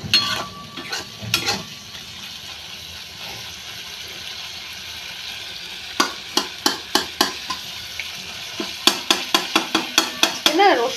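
Oil sizzles steadily in a pan while mung dal is fried with chopped garlic, grated ginger and fish head, and a utensil scrapes and taps it in quick bursts of close, sharp clinks.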